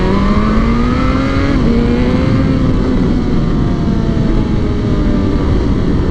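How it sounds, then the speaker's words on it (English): A loud motorcycle engine with a baffle fitted roars close by, revving and holding a rough, throaty drone with a slight pitch drop partway through, alone without voices. "this bike is hella loud anyway"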